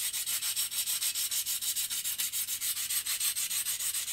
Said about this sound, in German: schleife ich unten auch noch an